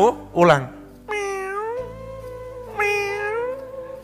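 A voice imitates a cat's meow, giving drawn-out, rising and falling meow calls close up, with short vocal sounds before them and no other background.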